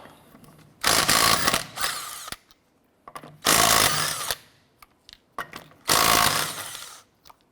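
Three loud bursts from an impact or power tool with a 19mm socket as lug nuts come off a 2006-2013 Chevrolet Impala rear wheel, each lasting about a second, separated by short quiet gaps and small clicks.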